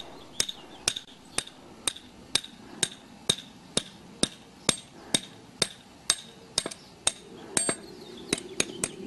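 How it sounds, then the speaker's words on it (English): A hammer gently taps a part down onto an threaded rod during epoxy kit assembly, about twenty light, sharp metallic taps in a steady, even rhythm, close and clear with no talking. "you just position it directly over the awl thread and then gently tap it in"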